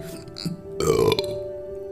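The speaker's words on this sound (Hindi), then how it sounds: "She emitted a long loud belch as she went to the public tap to rinse her mouth and wash her hands" A long, loud belch from a woman walking to a public tap, rising and rolling for about half a second over a steady background hum, with nobody talking.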